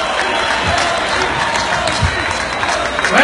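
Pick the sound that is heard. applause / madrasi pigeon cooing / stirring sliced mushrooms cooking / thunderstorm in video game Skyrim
applause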